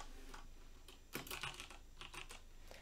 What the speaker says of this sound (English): So let's type hello world here.